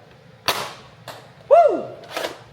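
A toy foam dart blaster fires with a few sharp pops and snaps, moderately close, with a brief whistling tone in the middle.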